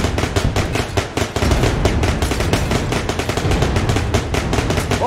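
Rapid virtual gunfire in the Bullet Train VR game, dense bursts of loud, close shots in quick rhythmic succession with no voices over them.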